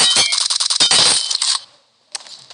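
A rapid run of metallic clinks and clatters from a bullet in PUBG Mobile, a brief silence, then another sharp metallic clink.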